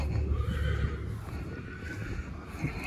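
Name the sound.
horses neighing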